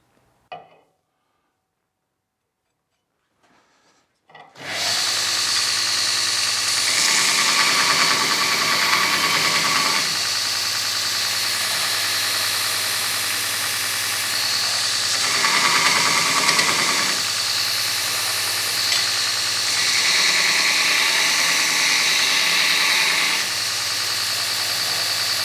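A homemade belt grinder starts after a few seconds of near silence and then runs with a steady, loud, buzzing whir. Its tone swells and dips slightly as it keeps going.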